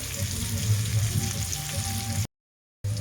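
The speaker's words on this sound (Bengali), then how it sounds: "আমি আলুগুলো ভেজে দেবো লাল লাল করে" Potatoes frying in oil in a pan, a close, steady crackling sizzle with fine popping, continuous until a brief cut to silence before it resumes.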